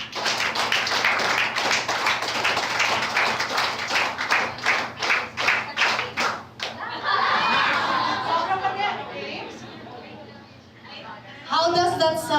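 A group at a personal-branding talk claps together in a run of quick, evenly spaced claps that is loud and close, followed by cheering and lively chatter, with people talking throughout.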